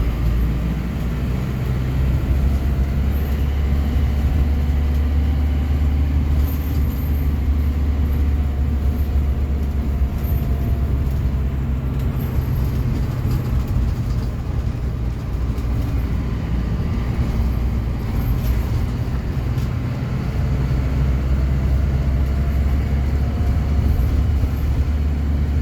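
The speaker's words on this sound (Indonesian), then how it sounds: "Saat ini bus yang saya naiki lagi melintas di Jalan Blora Cepu." Shuttle bus travelling along the Blora–Cepu road, heard from inside the cabin as a continuous low engine and road rumble with steady broadband hiss, no pauses or distinct events.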